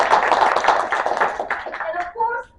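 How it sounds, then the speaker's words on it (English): Applause from the audience at a Toastmasters meeting, a burst of clapping mixed with voices that thins out toward the end as a few people keep talking. "So give yourself a big round of applause."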